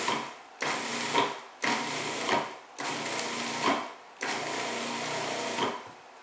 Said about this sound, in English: here's the easiest way to coarsely chop parsley or mint. Food processor.